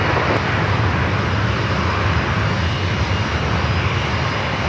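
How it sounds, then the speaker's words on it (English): Japan Airlines Boeing 787-8 Dreamliner arriving at San Diego airport on runway 27 after a flight from Tokyo Narita, a loud sustained jet engine roar filling the whole stretch, close and steady, with no voices. "Japan Airlines, the 787-8 Dreamliner coming up from Tokyo Narita"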